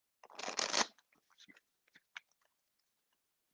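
An oracle card deck is shuffled by hand: a quick dense riffle burst near the start, then scattered faint taps and slides of cards settling, quiet and close in an otherwise silent room.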